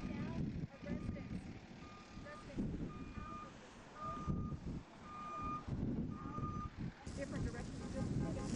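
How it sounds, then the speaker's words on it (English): A fire truck and fire engine reverse and move off after a California wildfire, steady repeating reversing beeps ringing over engine rumble and wind noise, with a voice talking throughout. "this fire truck and this fire engine, they did what they could and now they're moving on"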